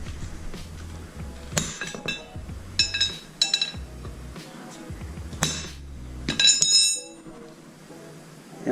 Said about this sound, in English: We're just gonna line one of the edges of this kind of flat bit up with the race down there and just give her a whack.